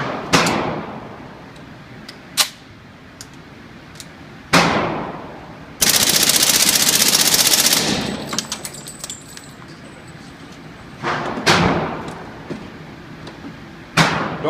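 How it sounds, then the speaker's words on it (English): Suppressed HK MP5 submachine gun fired at a shooting range, several short separate bursts and single sharp shots spaced through the clip, with one longer sustained burst near the middle. "how about an HK MP5 and 40 suppressed?"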